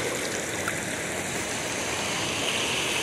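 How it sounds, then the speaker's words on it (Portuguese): Water rushes through an open floodgate at the Serro Azul dam with a loud, steady roar and hiss that fills the whole clip, with no voices. "Abri uma comporta ali, mas não é muita água"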